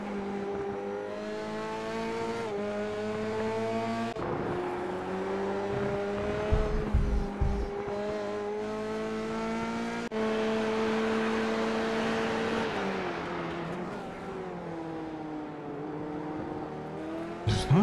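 Race car engine in the iRacing sim at Circuito de Jerez – Ángel Nieto, holding a loud, steady high-rev whine with rising and falling harmonics as it shifts near redline, dropping pitch on downshifts, with no talk over it.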